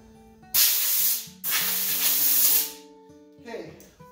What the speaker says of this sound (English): I use 60 grit sandpaper on this particular block for this job